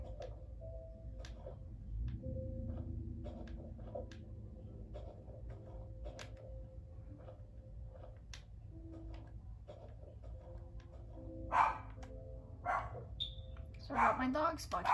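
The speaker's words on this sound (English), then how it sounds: "Sorry about my dogs barking in the background." Several dogs bark somewhere in the background, faint and distant, with a few short bursts toward the end over quiet Minecraft game sounds and soft ticking.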